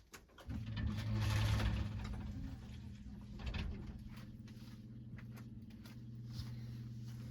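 A sump pump runs submerged in its pit, giving a steady low mechanical hum and rattle that holds throughout without voices.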